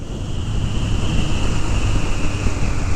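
A 1980 Kawasaki KZ1000G motorcycle engine runs smoothly above 3,000 RPM, producing a loud, continuous rumbling roar with steady, wind-like noise and no variation in pitch.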